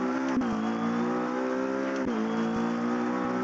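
Race car engine in a sim racing game, holding a steady high-revving tone that dips and recovers twice as gears are worked, close and loud with brief clicks, no talk over it.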